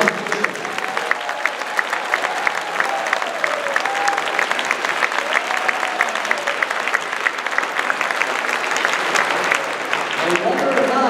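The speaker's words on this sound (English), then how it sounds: "I would like to give a warm round of applause for everyone who's competed here today for playing with me." Warm applause from a gym full of robotics competition teams and spectators at a school tournament, crisp dense clapping rolling on for several seconds, with voices mixed in beneath and a few whoops.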